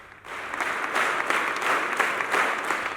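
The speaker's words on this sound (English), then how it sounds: "Participants engaged in a spirited clapping at varying intensities throughout the duration of the record-breaking" Large congregation at a church ministry event in Uganda applauding during a record attempt for the longest applause, dense steady clapping from many hands that rises after a brief quiet start and continues evenly.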